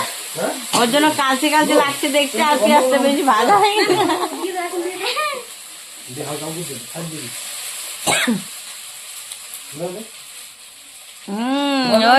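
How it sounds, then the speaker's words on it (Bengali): Spices for a meat dish sauté in a little oil, giving a steady hiss and sizzle beneath a person talking throughout, with occasional stirring noises. "মশলাটা হচ্ছে কষিয়ে নিচ্ছে মশলাতে তেল কম হয়ে গেছে"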